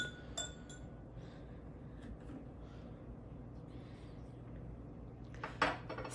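Water is stirred in a glass container, with faint clinks against the glass spread over a quiet background and a brighter clatter near the end.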